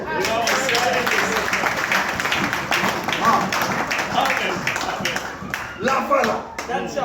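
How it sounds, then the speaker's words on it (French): A church congregation clapping and applauding for the Lord, a dense, steady wash of hands lasting throughout at close range, with voices mixed in underneath. "Acclamez pour le Seigneur."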